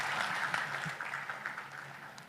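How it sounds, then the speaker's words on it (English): An audience at a presentation on the Port of Liloan claps for Secretary Cristina and Mayor Aljo; the steady group applause is fairly faint and distant, fading slightly toward the end. "A big round of applause, please."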